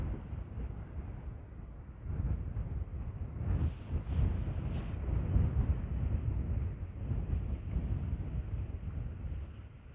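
Low, steady rumbling wind buffeting the microphone outdoors on Canna Island, Scotland, swelling slightly in the middle, with no voices.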